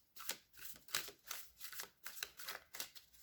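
Vision Quest tarot cards are shuffled by hand in close, soft, rhythmic riffles, about six or seven quick swishes in a row with no voices.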